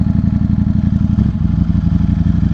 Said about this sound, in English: Oh, it's got the cylinder deactivation. You heard the cylinders cut back on.